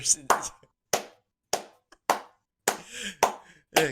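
Eight or so sharp hand claps spaced slowly and evenly about half a second apart, crisp and close, with silence between each.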